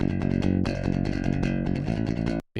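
A Dingwall bass played through Fat Filter Saturn saturation with a crunch amp patch, giving a thick, gritty, distorted tone in a dense run of picked notes that stops abruptly near the end, with no voices.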